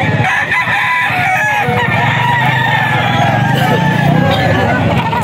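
A gamecock stag rooster, an SBR 3.5 stag, crows loudly and close, amid steady background noise with other fowl and faint voices around.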